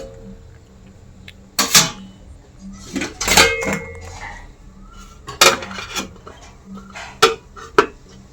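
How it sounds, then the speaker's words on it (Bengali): A lid goes onto a cooking pot of boiling chilies and water in a home kitchen, sharp metallic clanks and rattles in several close bursts separated by quieter room noise. "এই যে ঢাকা দিয়ে দিলাম।"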